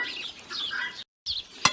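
Chickens scratching through horse manure in a yard give soft, close clucks and scuffling, with a brief gap and a sharp tap near the end.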